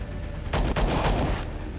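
Ship weapons opening fire in the Star Traders: Frontiers space game: a few punchy blasts in quick succession over a low steady hum, fairly loud and without speech.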